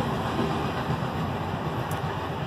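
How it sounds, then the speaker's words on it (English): A train rolls along a nearby railway track in Bonnell, Florida, giving a steady, fairly loud rumble and rolling noise that carries through the whole moment with no talking. "But hold on, there's a train coming."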